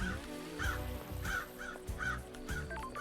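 Several crow caws in a video game repeat at a steady pace over a busy, constant background of layered ambient sound, fairly clear and mid-distance.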